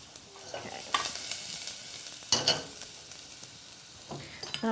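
Garlic sizzles and fries in a pan while a utensil stirs it, giving a steady close hiss broken by a few sharp scraping clinks, with no talking.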